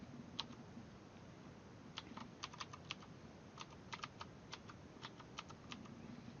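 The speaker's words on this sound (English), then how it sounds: "I'm just going to start to type." Irregular bursts of quiet keystrokes on a computer keyboard tap out in quick clusters against a soft background hiss, with no talking.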